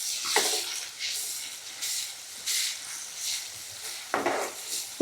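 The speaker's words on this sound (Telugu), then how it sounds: "అల్లం ఎల్లిగడ్డ పేస్ట్ మంచిగా ఫ్రై కావాలి" A spoonful of ginger-garlic paste fries with paneer for a paneer curry: a soft, fairly quiet hiss rises and falls in short surges, with a couple of sharper stirring scrapes.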